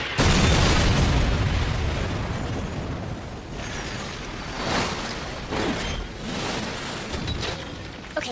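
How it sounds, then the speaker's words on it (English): Missile fired at point-blank range in the anime Infinite Stratos, a loud blast that opens with a roaring burst and fades into rumbling, mechanical clanks with a few later pops. "you just fired a missile at point-blank range"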